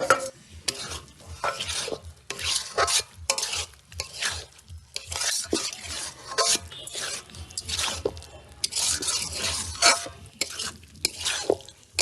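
Fried pumpkin is stirred in a hot pan, with repeated bursts of spatula scraping and clatter over a steady sizzle, close by and fairly loud in an uneven rhythm.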